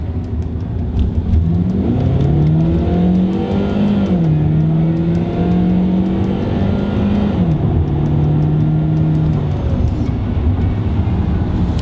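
A 2007 Saab 9-3 2.0T with 210 hp, converted to run on LPG, accelerates steadily, its engine note rising smoothly through the gears in a loud, continuous pull with brief dips at the shifts.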